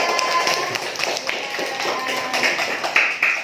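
Students in a classroom clap for group 3, a busy spread of close, uneven hand claps and taps, with voices mixed in faintly.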